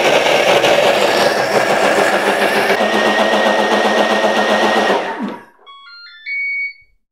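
A blender running at its highest speed on almond milk, a loud continuous whirring roar that holds steady for about five seconds, then winds down to quiet, followed by a short electronic beep.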